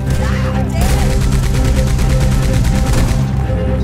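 Machine gun fire in Red Dead Redemption 2, loud rapid bursts of shots hammering in a fast, steady rhythm over several seconds, with a brief pause early on, up close and dominating everything else.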